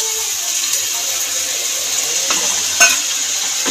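Spiced masala paste with ground cashew and melon seed frying and being stirred in a pan for vegetarian matar paneer, a steady loud sizzle with scraping stirs and one sharp clink near the end.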